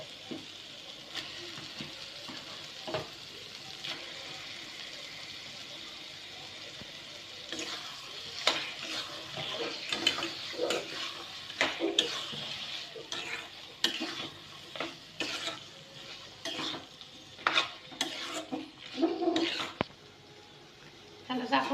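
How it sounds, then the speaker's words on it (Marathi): Washed chicken pieces sizzle in masala in a pan while a spoon stirs them, producing irregular scraping and clattering bursts over a steady low frying hiss. "कट केलेलं चिकन धुवून घेतलेलं आहे त्या मसाल्यामध्ये ऍड करायचं आहे"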